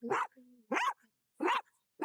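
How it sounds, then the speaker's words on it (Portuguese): A dog barks three times in steady rhythm, close and loud, with brief quiet gaps and a faint tonal whine between barks. "Enquanto tiver cachorro ali, ela vai ficar latindo e não vai ser possível gravar o vídeo"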